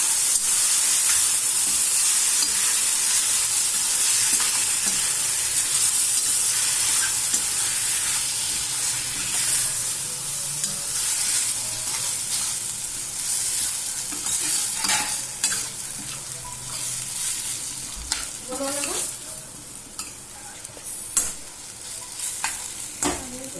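A soaked kurdai mixture being stirred continuously in a hot pan, a long run of scraping stirring strokes over a hissing, steaming sizzle that eases slightly over time, close and without speech.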